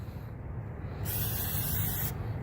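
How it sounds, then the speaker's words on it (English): Flex Seal coating hisses out of a spray can inside a rusted RV undercarriage, one steady burst of about a second over a low rumbling background, close and fairly loud. "anywhere and everywhere on the inside, spray this Flex Seal garbage"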